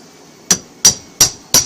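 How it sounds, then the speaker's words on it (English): Hammer blows on a demolition job, knocking glued-down material loose in pieces: four sharp, loud, evenly spaced strikes about a third of a second apart, each ringing briefly, with no talking. "We're gonna keep hammering."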